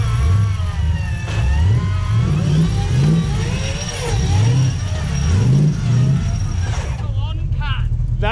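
A 4WD's engine revs hard while it drives and winches through deep mud, rising and falling in repeated surges under excited shouting and talk from people nearby.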